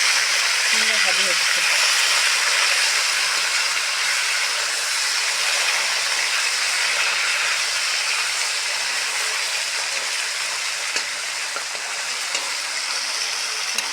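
Fish frying in oil alongside potatoes, a broad steady sizzling hiss that runs continuously at close range, loud and even, with voices speaking over it at times.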